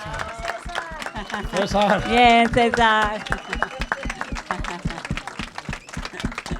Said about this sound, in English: So please, big applause for him.